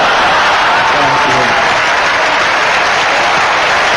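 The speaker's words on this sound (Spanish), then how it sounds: "cuando aplauden, el Papa puede un poco reposar" Loud, dense applause from a large crowd greeting Pope John Paul II in Cuba, a continuous roar of clapping that holds steady throughout.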